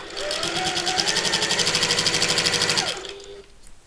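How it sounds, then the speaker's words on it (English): A sewing machine stitches along the top edge of fabric at normal stitch length, a loud, steady, rapid mechanical chatter close by that runs for about three seconds before winding down and stopping. "I'll go back to my normal stitch length and sew along this entire top"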